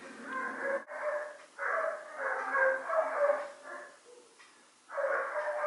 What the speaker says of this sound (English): Oh my gosh, my dogs are going crazy.